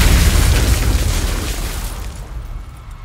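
A massive bomb explosion on Wall Street in 1920, a heavy deep boom that starts loud and rolls away into a long fading rumble.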